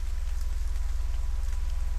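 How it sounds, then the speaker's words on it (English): Rain falling in a video game: a steady, even hiss of rain over a constant low electronic hum, continuous and alone with no talking. "on a rainy day like today"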